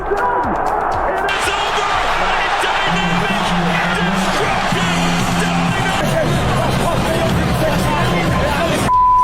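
A packed Wembley Stadium crowd roars at a boxing match, a dense, loud and constant wall of cheering and babble that continues without a break.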